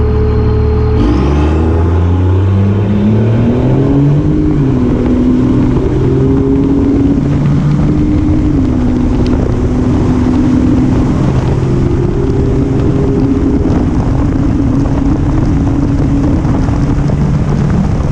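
A 2nd gen 24-valve Cummins diesel truck engine drones loudly while driving, rising in pitch through the gears with heavy wind and road noise close to the microphone.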